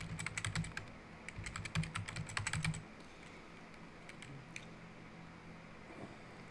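Username and password typed on a computer keyboard, a quick run of crisp key clicks for about three seconds, then quiet room tone.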